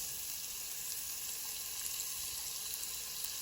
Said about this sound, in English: We'll saute for a minute.